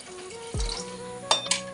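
Water is poured into a pot of chicken curry, a short splashing rush with a dull low thud, followed by a couple of faint metallic clinks from the pan.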